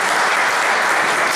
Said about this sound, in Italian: Un applauso a Pino.